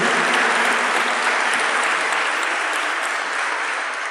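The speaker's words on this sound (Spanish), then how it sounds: "Dale un aplauso a Jesús, que es quien lo va a hacer posible." A church congregation applauds Jesus, a dense, even wash of clapping from a crowd that stays loud and steady throughout.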